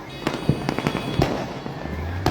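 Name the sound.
fireworks at Chhath Puja celebration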